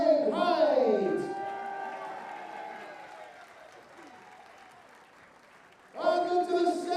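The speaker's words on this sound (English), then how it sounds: "a massive round of applause first of all for Lorraine Hyde" Darts championship crowd applauding and cheering for player Lorraine Hyde, a loud burst of clapping and shouts at the start that fades into a quieter murmur, then swells again near the end, with an amplified announcer's voice over it.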